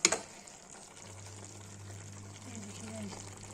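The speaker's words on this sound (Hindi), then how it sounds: "ये भूंज रहा है, 15 मिनट भूनेगा।" Lotus stem and turnip masala with chilli, turmeric and tomato frying in a pan, a steady soft sizzle with a low hum beneath, opening with a few louder stirring clinks.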